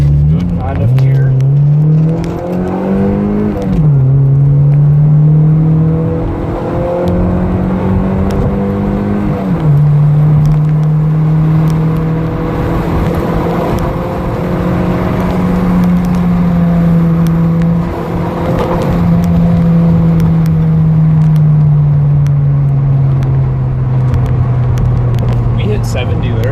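A Mazda Miata NC engine pulls hard in third gear, its note climbing steadily, dipping briefly and climbing again. Loud cabin noise runs throughout, with people talking over it.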